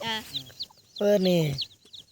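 A hen gives a couple of low, throaty clucks while her ten tiny chicks peep in quick, high chirps around her, close by.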